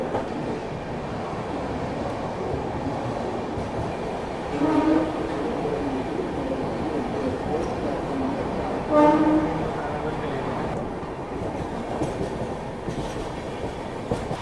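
The Mumbai-Hapa Duronto Express rolls slowly through Vasai Road with a continuous rumble of railcars, as two short horn blasts sound partway through.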